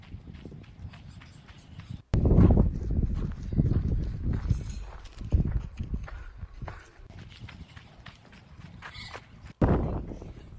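A former racehorse's hooves clop and scuffle close by in loud bursts, with handling noise and occasional movement, heard mostly without talk.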